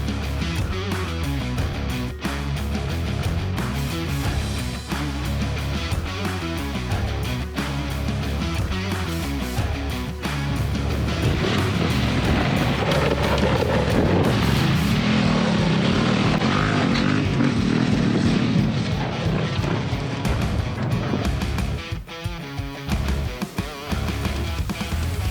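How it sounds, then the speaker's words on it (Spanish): A Yamaha Ténéré 700 motorcycle engine drones and buzzes hard at speed, loud and continuous, with wind rush growing stronger partway through and the pitch wavering. "cómo le está zumbando a la moto"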